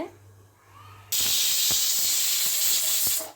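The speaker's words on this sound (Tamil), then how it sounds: "இப்போ விஷில் வந்துருச்சுங்க" A pressure cooker whistle goes off abruptly after a quiet second, releasing a loud, sustained rush of hissing steam that continues to the end, with a few faint knocks beneath it.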